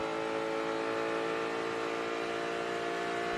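IMSA GT race cars accelerating hard out of turn 2 on the Detroit street circuit, a steady, dense engine drone with a sustained high whine, continuous and fairly distant, with no voices.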